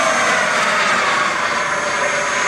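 A jet aircraft roars past at an air show, a loud, steady, dense engine rush that fills the whole moment without any voices over it.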